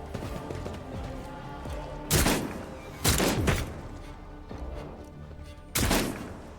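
Shotgun blasts in the video game Warhammer 40,000 Rogue Trader: three loud, broadband booms land a second or so apart, then a fourth after a pause, each over a steady bed of game music and ambience.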